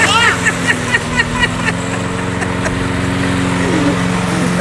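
A lawn mower engine drones steadily nearby, a continuous buzzing hum with a few brief higher chirps at the start.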